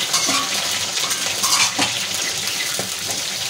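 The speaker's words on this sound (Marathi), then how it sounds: "आपण आता झाकण काढू शकतो" Metal clinks and scrapes rise over a steady sizzle as a lid comes off a cooking pot where green chillies are frying in oil, a few light clatters close by with no voices.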